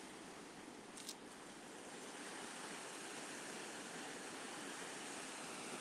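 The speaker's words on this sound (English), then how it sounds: "listening to the sound of the sea." Sea waves wash steadily onto an ocean shore in a continuous broadband roar, with a brief sharper splash near the start and no voices.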